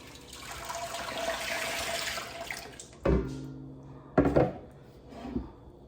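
Thick homemade tomato spaghetti sauce, freshly blended, is poured from the blender into a cooking pot in a home kitchen. It comes as a few short wet glugs and splashes after a stretch of steady running-water noise.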